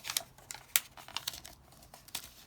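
A vellum paper bag is folded at the bottom, producing close, faint crinkles and sharp crisp rustles in irregular bursts.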